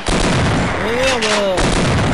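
Shotgun fire in the video game Half-Life, loud close blasts amid dense noisy game action, with a brief pitched creature or voice-like cry in the middle and no clear talk.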